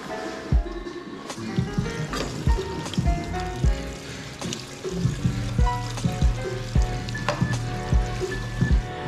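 Fuel drained from a Turbo Rotary 510's tank trickles and splashes into a gas can, a steady liquid pour with irregular gurgles and dribbling drops, close and continuous.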